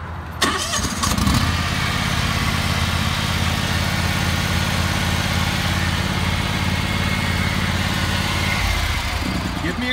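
A John Deere X500 lawn tractor with a 52-inch mower deck starts up and then runs at a steady, loud idle close by, a constant engine drone that holds until it drops near the end.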